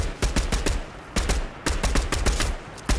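Rapid gunfire in a battle royale video game, aimed at a tree: loud, sharp shots in quick clustered volleys with brief gaps between bursts, close and alone.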